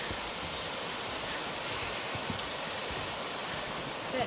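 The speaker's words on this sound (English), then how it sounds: "And we've got Avalanche Creek over here." Avalanche Creek in Glacier National Park, set among cedars and mossy rock walls, rushes with a steady, faint broadband hiss of flowing water and no talking.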